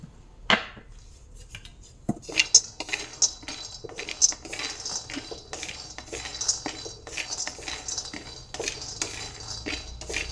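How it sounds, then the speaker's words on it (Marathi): Peanuts are dry-roasted in a pan for a village-style chutney, stirred with a metal utensil that gives repeated scraping clinks and rattles at an uneven pace, close and moderately loud. "शेंगदाणे भाजून घेऊ आपण।"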